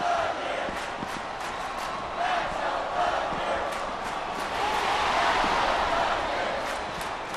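Wrestling arena crowd cheering and roaring throughout, a loud continuous wash of voices with surges of shouting, steady and dense.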